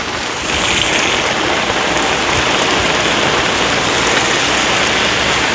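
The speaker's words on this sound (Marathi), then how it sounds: "पुढे एवढा पाऊस आहे मित्रांनो" Heavy rain pours down steadily in a dense, even roar close by, unbroken for the whole stretch with no voices.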